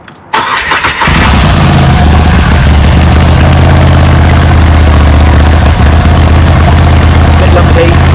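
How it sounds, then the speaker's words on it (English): A cold Moto Guzzi V85TT motorcycle engine cranks and fires after a brief click, then settles into a loud, close, steady and slightly lumpy idle. "Bike's cold, let's start it, see if we can hear that engine pitch change when she's ready to go."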